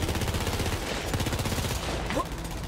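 Sustained automatic gunfire rattles in the co-op looter shooter Borderlands 3 during a heist mission, a fast, steady stream of loud shots filling the whole moment with no pauses.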